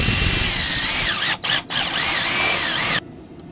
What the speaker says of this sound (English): I need to pre-drill a couple of holes in this little bracket.